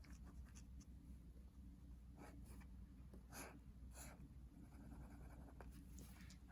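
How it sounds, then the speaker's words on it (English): Pen or pencil scratches on paper in quiet bursts as notes are handwritten for a math lesson. The strokes are soft and close, and there is low hum underneath. "Think about it before I write it down."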